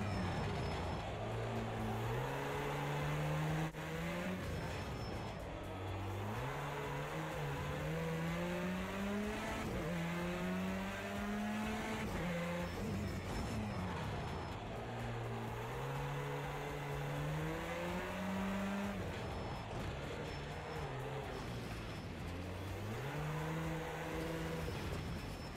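A rally race car engine in Project Cars 2 revs through repeated upshifts, each pitch climb broken by a drop, loud and continuous across a full lap with no talking.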